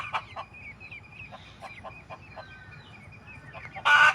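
A hen clucks in soft, scattered bursts with chicks nearby, moderately close but fairly quiet, and a sharper, louder call breaks out right at the end.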